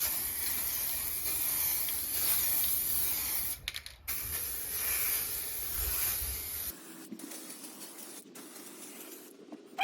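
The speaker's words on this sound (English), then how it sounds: "Now I'm going to put on the high build primer." Spray can laying down high build primer on plastic hubcaps, a steady close hiss running almost continuously with a short break near the middle, then a quieter, thinner spray toward the end.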